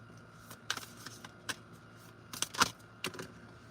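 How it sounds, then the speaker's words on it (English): Tarot cards being shuffled by hand at close range, with soft irregular riffles and flicks spread across a quiet room and one sharper burst near the end. "Sometimes I'll be having to shuffle for a minute."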